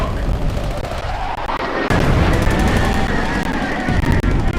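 A heavy detonation booms in the video game Not For Broadcast, a dense, roaring blast that swells abruptly partway through and rumbles on loudly, with faint voices beneath it.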